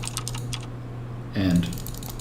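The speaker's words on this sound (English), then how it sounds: "New keyboard sound" Phasmophobia's new in-game keyboard typing effect: a quick run of soft, close key clicks, then a brief pause before a short burst of louder key taps, all over a low steady hum.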